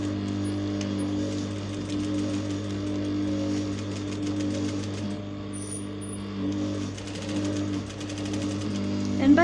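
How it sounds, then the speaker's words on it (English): A sewing machine runs steadily, stitching fabric in circular motion for a pleated flowered flounce, a constant near mechanical hum with a brief pause midway. "So I'm going to stitch this in circular motion, and this is how we are going to do it."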